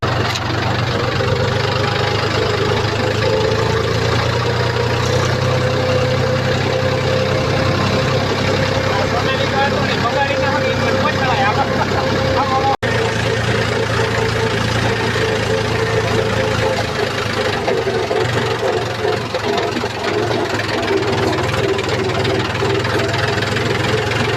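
A new tractor engine idles steadily close by for the whole stretch, a constant low rumble with some knocking, while people talk over it.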